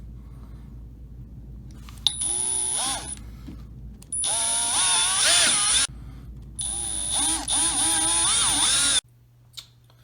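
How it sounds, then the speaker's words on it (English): A power drill with a 1/8-inch bit whines in three sustained bursts while drilling a pilot hole, the first short and the next two longer, each with shifting pitch as it bores, separated by brief pauses. "I'm going to use a 1/8 drill bit"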